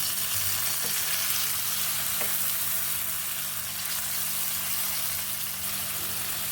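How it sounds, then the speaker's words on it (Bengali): Spice paste sizzles and fries steadily in a pan while being cooked down for a vegetarian banana flower curry with rice, a loud continuous hiss with no voices. "এবার মশলাটা দিয়ে ভালো করে কষিয়ে নেব"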